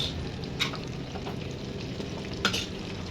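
Fennel seeds sizzle in hot oil for veg salna, a steady close frying hiss broken by a couple of sharp stirring clinks.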